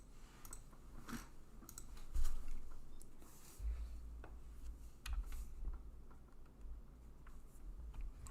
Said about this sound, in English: I hate how you can hear me typing.